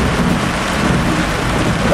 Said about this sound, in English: Cloud thunder.